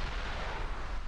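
An ATGM missile slams into a tank turret in War Thunder, a short dense blast of broadband rumble that stays loud and steady for about a second, with no voices over it.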